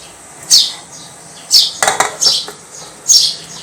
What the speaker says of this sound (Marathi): आता आपण ही चाळण पातेल्यावरती ठेवूया